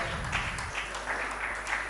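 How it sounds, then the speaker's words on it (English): An audience at an educational mentoring program in Mumbai bursts into short, steady applause, a dense patter of many hands clapping at moderate volume for under two seconds. "Give him a big round of applause."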